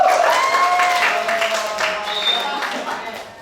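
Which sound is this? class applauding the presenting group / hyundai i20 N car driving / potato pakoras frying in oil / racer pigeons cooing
class applauding the presenting group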